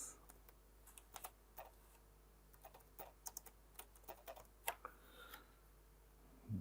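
Quiet typing on a computer keyboard while entering series names into a spreadsheet chart, an irregular run of light key clicks with brief pauses between taps, no voices.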